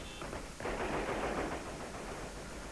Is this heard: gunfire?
yes